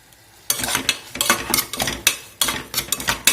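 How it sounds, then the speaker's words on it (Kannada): Curry leaves, turmeric and chopped tomato frying in a pan for cluster-bean gojju, heard as a burst of sizzling with scraping stir strokes that come in uneven surges, close and moderately loud, with no talk. "ಒಂದು 2 ನಿಮಿಷ ಫ್ರೈ ಮಾಡ್ಕೋಬೇಕು ಇದನ್ನು."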